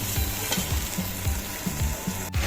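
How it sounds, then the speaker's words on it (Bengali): Potato and bitter gourd fry in a wok with a steady close sizzle, while regular stirring strokes scrape and turn the pieces about every half second. "আলু উচ্ছে ভাজাটা হচ্ছে"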